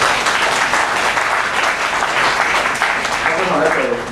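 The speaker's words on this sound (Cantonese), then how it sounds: "送個掌聲，多謝你哋好嘛！" An audience at a public church lecture gives a sustained round of applause, evenly dense and fairly loud for about four seconds, with voices mingling in the crowd noise.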